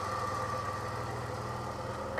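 A Peugeot 605 SV with a 3.0 V6 PRV engine idles steadily at close range, a low, even rumble with faint knocking texture, just after a cold start and with a holed silencer.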